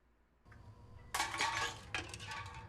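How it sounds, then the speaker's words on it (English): Glass breaking in a horror film scene from Scream 6: a sudden loud bright crash with scattering tinkling shards, followed by a second burst of clinking debris, over a low rumbling background. "they can hear the broken glass"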